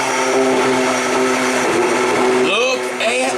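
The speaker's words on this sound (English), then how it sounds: "Just had a bit of a mishap with the immersion blender." Immersion blender whirring through green cream soup with garlic, a loud steady motor drone that shifts pitch as it churns, with a voice briefly over it toward the end.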